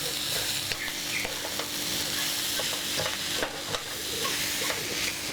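Jackfruit curry with smoked paprika sizzles in a pan while being stirred, a steady frying hiss punctuated by scraping and clinking of the spoon against the pan, close and loud.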